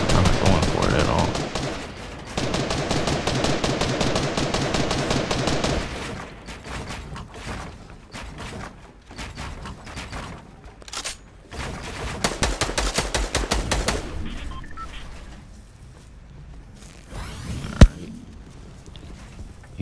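Rapid bursts of gunfire in a Fortnite-style battle royale match, dense volleys for the first several seconds, then scattered shots and game sounds, with one sharp loud crack near the end.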